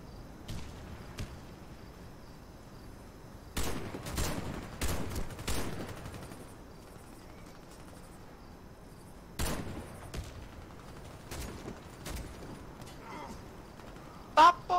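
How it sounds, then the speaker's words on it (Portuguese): Sniper rifle fire in the Warface shooter on Xbox One, with an M98B-style rifle: sharp, isolated cracks spaced seconds apart over quiet game ambience, with a few clustered bursts and a late loud shot. "um tirinho de sniper, já morri"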